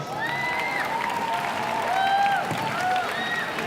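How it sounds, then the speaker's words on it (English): Audience applause at a secondary school event, clapping for the sound engineer; steady, moderately loud applause fills the space with some voices and cheers mixed in throughout. "Come and give him a round of applause."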